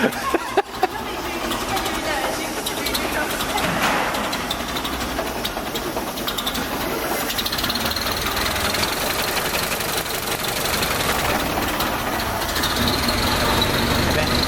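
An old car engine in an automobile museum's restoration workshop fires up with a few sharp bursts, then settles into a steady, knocking idle while people talk nearby.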